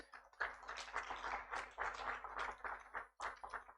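Clapping from an audience at a tree-saving mobile app launch event, a steady patter of hands at low level with brief gaps, no voices over it.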